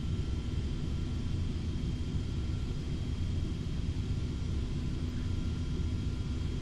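Engines of a Boeing 727 airliner in a flight simulator drone steadily after being throttled back during descent, a constant low rumble with faint tonal whine, unbroken and without voices.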